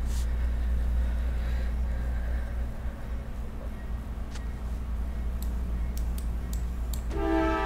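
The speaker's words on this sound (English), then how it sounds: "I feel like that train horn's out." A train horn sounds in the online game Lord of the Rings Online, a steady low droning tone held throughout, with faint clicks and no speech.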